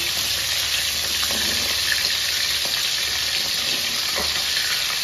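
Steady, loud sizzle of food, likely ginger, frying in oil in a pan, a continuous hiss with a few faint stirring knocks and no talking.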